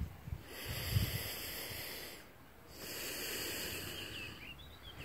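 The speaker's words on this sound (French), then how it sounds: "j'inspire, j'expire" Someone breathes in and out deeply during a morning exercise routine. Two long, airy breaths are close and fairly soft, with a short pause between them and no talk.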